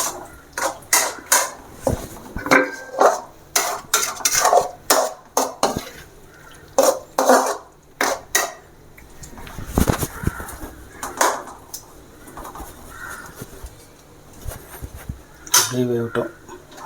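Egg mixture being stirred in a pan for Ding Dong chicken, heard as a string of irregular metallic scrapes and clatters of utensil against cookware in close, loud bursts separated by brief gaps.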